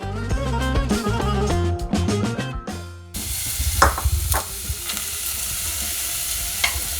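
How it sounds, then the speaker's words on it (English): Music plays for the first few seconds, then onions fry in a little oil in a pan with a continuous close sizzle broken by a few scraping stirs. "So a little bit of oil just so we can fry the onions."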